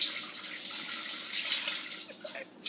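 Water poured from a container runs down a string in a steady stream, a continuous splashing trickle that holds nearly level throughout, close by and fairly quiet, with a few brief bumps toward the end.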